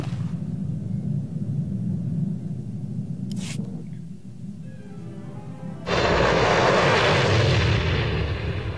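Spaceship landing in Star Wars: The Old Republic, a low rumbling engine drone with a brief whoosh midway, then a sudden loud roaring surge of thrust that holds to the end.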